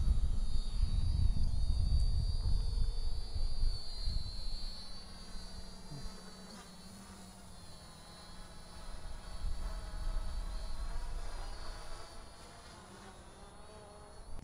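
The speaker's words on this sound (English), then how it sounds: "drone will arm," A small drone controlled through QGroundControl arms and lifts off, its rotors giving a thin insect-like whine with a low rumble that is loudest at takeoff and then eases as it flies off, with no talking.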